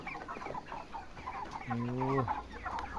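Chickens cluck nearby in an open-system chicken coop in short, murmuring bursts, with one louder drawn-out squawk partway through.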